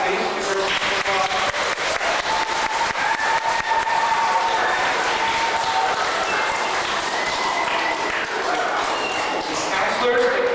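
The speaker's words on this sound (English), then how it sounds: "please give her a round of applause" An audience at a school gathering applauds the principal with a dense, sustained clatter of many hands that holds steady throughout, loud and fairly close, with a voice and a few ringing tones mixed in.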